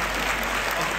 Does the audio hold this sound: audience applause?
yes